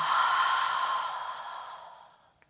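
A deep, slow exhale through an open mouth during a beginner yoga breathing exercise, a soft airy rush that starts full and gradually fades away over a couple of seconds, close and alone.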